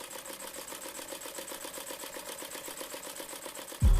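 An old household sewing machine runs steadily with a fast, even mechanical stitching rhythm, faint and alone, ending in a sudden heavy thump.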